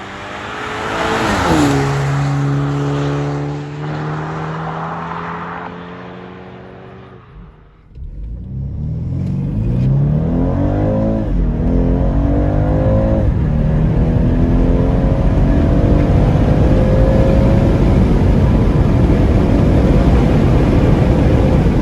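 BMW 230i engine accelerating hard, loud rising engine tones climbing through the gears with a brief dip at a shift, then a sustained strong rumbling pull heard from inside or close to the car.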